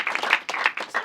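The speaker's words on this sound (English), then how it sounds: "Round of applause, guys." An audience applauds at a web series screening and Q&A, a brief burst of clapping that comes in uneven surges and dips.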